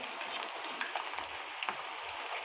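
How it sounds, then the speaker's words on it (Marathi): Moong dal frying in hot oil inside a sieve for crisp namkeen, a continuous close sizzle with soft scraping and stirring clicks, fairly quiet and without speech. "आता या चाळणीमध्ये आपण ही डाळ टाकू आणि अशा प्रकारे म्हणजे ही एकदम एक सारखी अशी तळली जाते"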